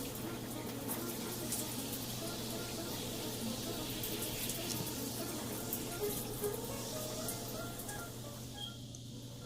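Running water pours steadily over thick hair, a continuous close hiss and splash with no break for the whole stretch.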